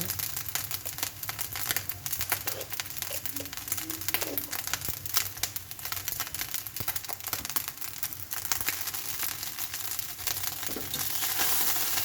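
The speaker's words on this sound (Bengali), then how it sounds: "দেখো ভাত এরকম করে ভেজে নিবে তোমরা। সুন্দর করে ভাজতে হবে।" Cooked rice being fried in a pan for breakfast, a continuous crackling sizzle with scraping and stirring noises from a spatula, steady and close throughout.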